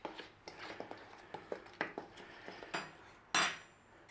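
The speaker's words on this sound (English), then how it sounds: "So we're just going to give that a little gentle stir through there in this bowl." A spoon stirs corn flour and salt gently in a bowl, giving a series of soft, regular scraping clinks ending with one louder knock, close and quiet.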